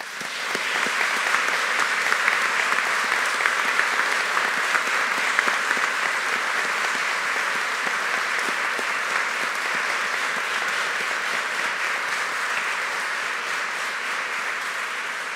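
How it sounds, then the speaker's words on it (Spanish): Sustained applause from the audience at a lawyers' swearing-in ceremony before the Supreme Court, a steady, even roar of many hands clapping that holds at full strength throughout. "Aplaudamos este logro."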